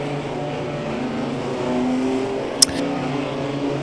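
Race cars in a championship race run on track, a loud steady engine drone with layered pitches from several cars, one brief sharp bang midway, and no talk.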